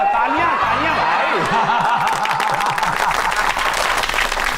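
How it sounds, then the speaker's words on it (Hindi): An audience claps for a village poet in a comedy skit, with steady applause and some chuckling over a background of speech and a swooping musical tone. "तालियां तालियां भाई"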